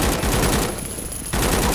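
Sustained rapid gunfire from the shooter game A.W.O.L, a dense rattling burst that briefly thins midway and then resumes at full force, loud and close with no talking.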